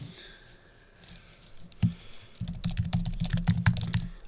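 Computer keyboard typing a short note, a burst of fast, close key clicks starting after a quiet opening and one isolated tap, with no one speaking.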